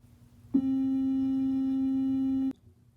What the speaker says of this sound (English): another common waveform found on synthesizers is called a sine wave. Here's what it sounds like.